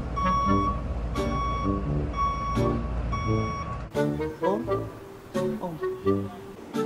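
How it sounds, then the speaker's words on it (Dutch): A truck or bus across the street beeps in a steady repeating reversing pattern under low engine rumble, then pulls away with the beeping stopping and a busier mix of engine and traffic sounds taking over; no one speaks. "Die bus aan de overkant gaat weg."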